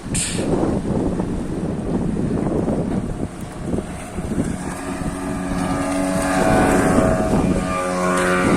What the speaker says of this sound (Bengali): এখান দিয়ে একটা স্পিড বোট